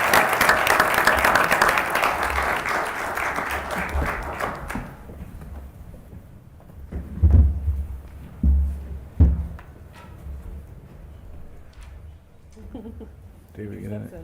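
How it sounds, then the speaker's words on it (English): Audience applause at a city council meeting, a dense round of clapping for about five seconds that fades out, followed by room noise, a few thumps and quiet talk. "Would you all join me in giving Sheba and Shelby a round of applause?"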